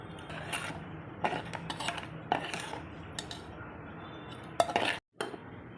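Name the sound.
serving rice from a pot with utensils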